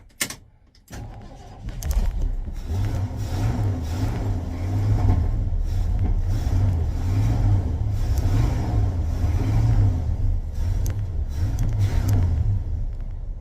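An old 1975 Ford F150 Super Cab pickup engine cranks, catches, and runs with a loud low rumble, revving in slow waves up close.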